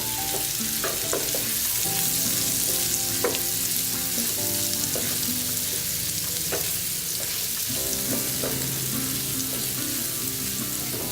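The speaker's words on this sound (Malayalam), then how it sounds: "ഒരു പാനിൽ കുറച്ച് എണ്ണ വെച്ചിട്ടുണ്ട്. നമ്മൾ മുളക് തിരുമ്പി വെച്ച കൈപ്പയ്ക്ക അതിലിടുക." Bitter gourd pieces coated in chili fry in oil in a pan, giving a steady loud sizzle with occasional stirring clinks and scrapes throughout, with no talking.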